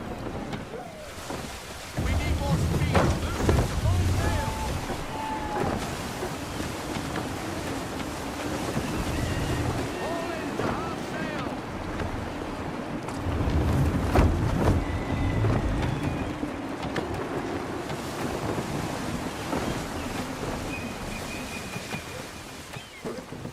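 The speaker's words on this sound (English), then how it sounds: "Gusty winds can be difficult to manage." Gusty wind blows over open sea while sailing a ship in Assassin's Creed III, a steady roar of wind and waves with creaking and splashing, rising in gusts, and occasional voices underneath.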